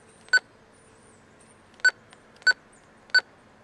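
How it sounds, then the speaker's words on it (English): Four short, bright electronic roger beeps from a Uniden 7760NB UHF radio, spaced irregularly over a quiet hiss, each one crisp and identical. "As you can see, hear the beep"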